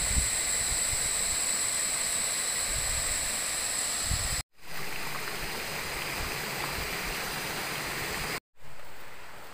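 Steady rushing water fills the scene, a continuous broad roar of a mountain waterfall and stream in Mindoro, briefly cut out twice.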